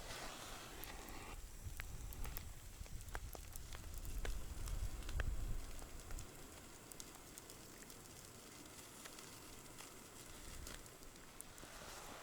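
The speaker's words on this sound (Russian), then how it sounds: "Костер буду разводить." Campfire burning outdoors during a winter ice-fishing outing, a faint, quiet crackle and soft hiss with scattered small pops, heard from close by with no talk.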